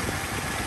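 The 2.4 liter four-cylinder engine of a 1998 Toyota Tacoma SR5 idles with a brief, steady, low rumble heard close up.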